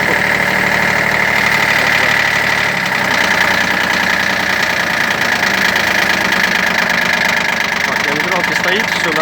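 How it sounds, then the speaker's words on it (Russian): Diesel engine of a Shibaura P17F Japanese mini tractor idling close by with a steady, even knocking throb that runs throughout, while someone speaks over it. "Работает двигатель ровно, четко"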